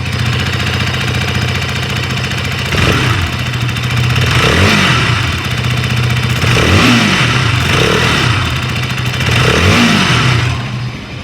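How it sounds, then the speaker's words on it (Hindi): A 2025 KTM Duke 160 motorcycle engine idles close by with a steady low rumble, and the throttle is blipped a few times into brief, rising revs. "तो जो बाइक का आइडल साउंड है यू कैन लिसन"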